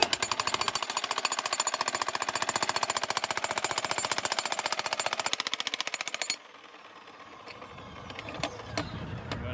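A large rented jackhammer breaks up ground for a yard trench, loud, steady, rapid hammering for about six seconds before it abruptly stops, leaving quieter outdoor background noise.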